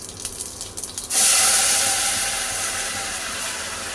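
Mustard seeds, cumin and spice masala hit hot oil and ghee in a pressure cooker, bursting into a loud, steady hiss after a second of quieter clatter, then sizzling on evenly with no talk.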